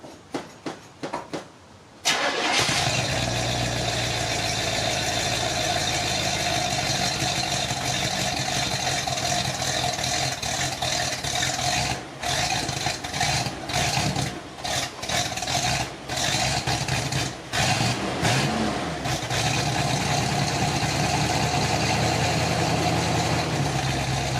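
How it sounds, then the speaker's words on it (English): A Radio Flyer car with a repaired leaky gas tank cranks briefly, then starts and settles into a loud, steady idle that runs on continuously, with a few brief dips in engine sound. "Right now, I just want to let the car run for 5-10 minutes."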